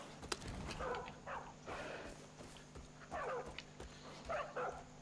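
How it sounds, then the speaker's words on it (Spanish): A dog barks repeatedly in Far Cry 5 while being attacked by a wolverine, with several short bark bursts over hoofbeat-like thuds and steady game background noise. "hay Boomer que estaba ladrando un montón y es que le estaba atacando un carcayú"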